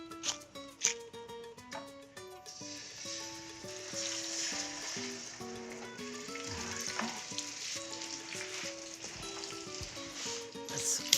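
Pork loin chops frying in a pan, a steady close sizzle throughout with a louder burst at the start, under a background of tonal music.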